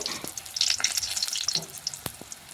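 Homemade mung dal bori fry in oil in a pan with a soft continuous sizzle, scattered pops and light stirring clicks close by.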